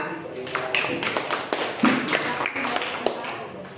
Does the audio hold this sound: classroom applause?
yes